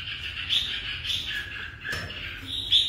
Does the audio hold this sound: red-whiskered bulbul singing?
yes